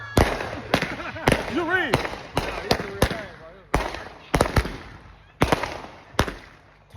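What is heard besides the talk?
fireworks and firecrackers going off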